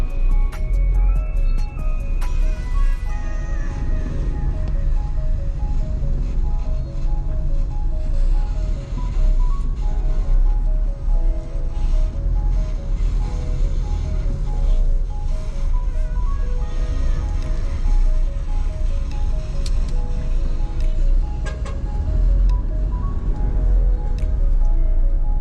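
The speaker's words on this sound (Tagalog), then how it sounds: "Traffic dito sa may Tacorong." Road traffic in Tacorong rumbles steadily for the whole stretch, with engines and tyres passing close by, a brief chime near the start, and no talk over the continuous loud street noise.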